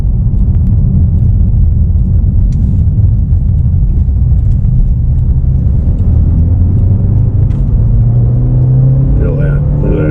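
2021 Jaguar E-Pace P250 accelerating hard through its gears in dynamic sport mode, a steady, loud low rumble from inside the cabin with a rising engine tone near the end.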